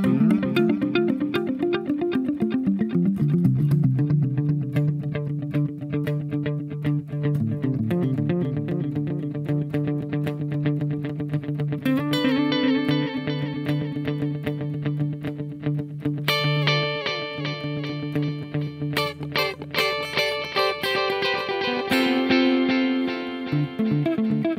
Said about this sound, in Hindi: अभी फीडबैक बहुत ही कम किया है मैंने अभी मैं फीडबैक बढ़ाता हूँ